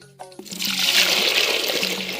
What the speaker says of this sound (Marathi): आणि टाकलेलं आहे बाटलीमध्ये पाणी